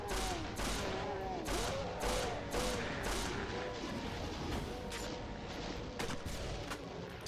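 Weapons fire at a Mancubus in a Doom mod, a rapid, rhythmic volley of sharp booming shots repeating roughly every half second, loud and close over a rumbling game backdrop.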